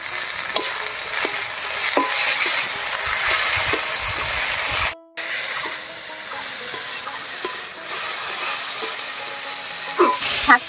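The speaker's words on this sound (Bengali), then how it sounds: "শাকটাও ভাজা ভাজা করে নিলাম" Jute leaf greens (pat shak) fry and sizzle in a pan with spices, a steady crackling hiss stirred now and then with soft scraping clinks, broken by a brief cut midway.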